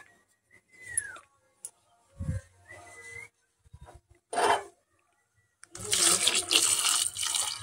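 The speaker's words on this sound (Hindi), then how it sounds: "गर्म पानी डाल करके और फिर इसको उबालेंगे" Clinks and knocks of kitchenware followed by a rush of hot water poured into a pot of corn, splashing steadily at close range, no talking.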